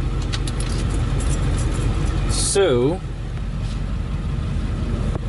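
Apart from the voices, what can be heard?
Ford bus engine idling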